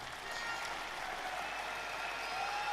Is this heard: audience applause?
yes